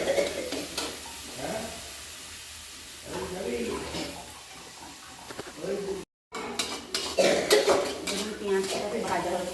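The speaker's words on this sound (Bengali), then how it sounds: "পেঁয়াজটাকে ভাজা হচ্ছে" Onion paste frying in a pan with utensils clattering and stirring, a soft sizzle underneath, some muffled talk and a brief dropout before louder clinks and scraping.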